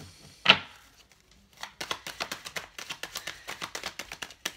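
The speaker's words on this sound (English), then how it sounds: "The cards definitely don't want to shuffle properly." Tarot cards being shuffled by hand, a quick rapid riffle of close, soft flapping card sounds after a brief snap and short pause, fairly quiet.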